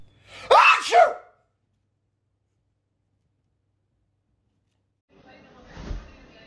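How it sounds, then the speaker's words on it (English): A person lets out one loud, sharp fake sneeze aimed at a Doberman, close and clear, followed by silence and then a soft rustle near the end. "Fake sneeze at your dog."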